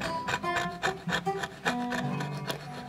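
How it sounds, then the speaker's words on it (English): A chisel scrapes paint off a wooden saddle block for a cigar box guitar, a quick series of about ten rhythmic rasping strokes, close and fairly faint. "I'll hit it with a chisel real quick to scrape some of that other stuff off"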